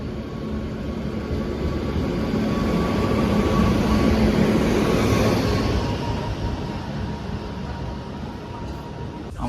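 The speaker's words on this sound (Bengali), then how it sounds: "ওই যে ট্রেন আসছে" Train pulling into a station platform, a steady broad rumble that swells toward the middle and eases off, with a faint sustained tone and background crowd murmur.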